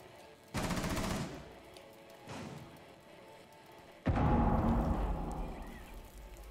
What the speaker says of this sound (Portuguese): Barulho de tiro.